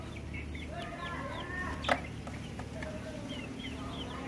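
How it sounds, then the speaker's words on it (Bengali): Four tiger breed chicken chicks peep faintly in short high chirps scattered over a steady low background hum, with one sharp brief knock partway through. "এখানে আমি 4টি মুরগির বাচ্চা কিনেছি"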